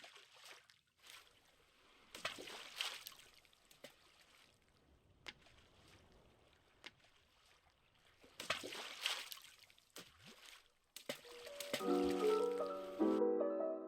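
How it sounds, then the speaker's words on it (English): Objects splashing into water in a video game, several soft sloshing splashes spread across the clip, with a brief musical tone near the end. "a sound effect has been added when objects collide with water"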